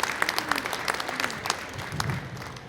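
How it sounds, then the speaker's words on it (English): An audience at a community event on the future of public housing gives a brief round of applause, a dense patter of clapping with a few sharper claps standing out, fairly close and even throughout. "So I really want to give a quick round of applause for everybody who helped make that happen."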